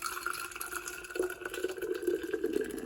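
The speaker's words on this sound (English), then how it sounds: "Now once you have your apple juice, you pour it in your container." Fresh apple juice, pressed from green or red apples with ginger, pours into a container with a steady liquid splash and trickle, fairly close and moderately loud, with no talking.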